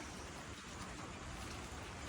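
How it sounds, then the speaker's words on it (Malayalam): Heavy rain falls steadily at a house construction site near Nedumbassery airport, a dense, unbroken wash of hiss filling the whole short stretch with no voices. "അപ്പം നല്ല മഴയാണ് ഇവിടെ."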